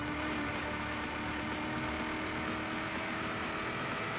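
A race car engine in the driving game Forza Horizon 3, a steady loud droning roar that holds constantly with no pauses, alone without talk.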